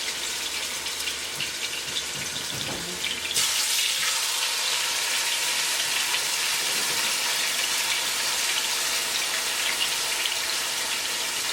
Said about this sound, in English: frying your pieces and browning them.